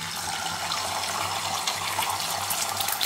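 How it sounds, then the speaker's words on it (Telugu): An egg sizzles in hot oil for a half-boiled egg curry, with a steady, dense frying hiss that continues without a break and no voices over it. "ఇప్పుడు మనం ఈ గుడ్డు తీసుకొని వెళ్ళి ఆయిల్లో వేసేద్దాం"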